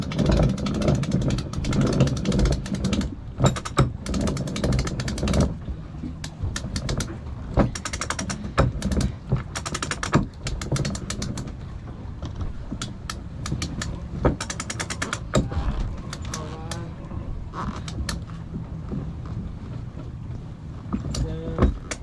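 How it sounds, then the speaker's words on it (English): A sailboat winch grinds in the main halyard with loud, rapid ratcheting clicks in bursts, pausing and resuming, alongside creaks and water or wind noise. "I'm clearly struggling to grind the main halyard in"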